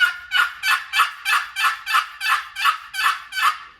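A Houndstooth turkey call imitates a hen's yelp in a run of about eleven evenly spaced, loud, raspy notes, each breaking from a high note to a lower one, close and clear with no talking.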